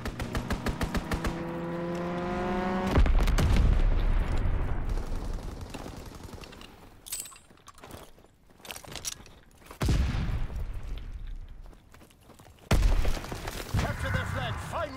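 Call of Duty capture-the-flag match with a strafing run: dense bursts of rapid gunfire and explosive impacts roll on for several seconds, loud and close, dropping out briefly, then returning amid heavy action noise.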